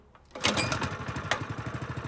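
An E-Z Trench landscape edger engine starts and runs, a loud, close small gas motor with a fast, steady throbbing putter.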